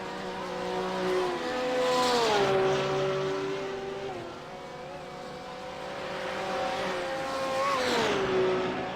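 A Porsche GT3 race car in a sim racing game at the Nürburgring combined circuit roars at high revs, its engine pitch rising and dipping through gear changes and corners, loud and continuous with no talk.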